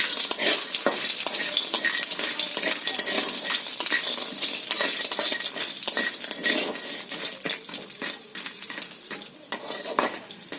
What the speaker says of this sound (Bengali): কড়াইতে তেল দিয়ে দিচ্ছি বড়িগুলো ভেজে নেবো